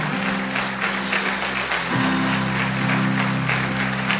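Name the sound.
applause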